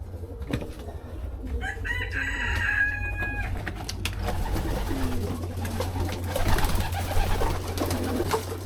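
Young cockerels in a coop crow and cluck with pigeon-like cooing, the calls fairly close over a steady low hum and rustling background, with no talking.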